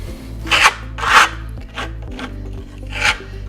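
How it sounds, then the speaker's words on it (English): Steel trowel scraping and loading black Grassello lime plaster for a decorative wall finish, with three or four distinct close rasping strokes separated by brief pauses. "I'm going to load my trowel."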